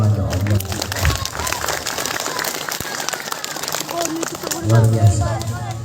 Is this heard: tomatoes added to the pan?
no